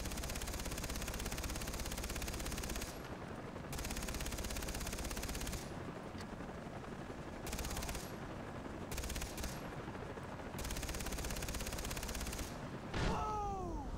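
Rapid machine gun fire in Far Cry 3 rattles in long sustained bursts separated by short pauses, with a brief whooshing sweep near the end.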